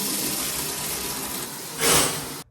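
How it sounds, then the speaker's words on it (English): A shower runs with a steady, close hiss of spraying water that surges louder for a moment near the end before cutting off. "I'm about to shower"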